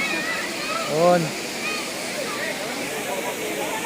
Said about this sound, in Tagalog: Ito yung baba ng Cambugay Falls, you know.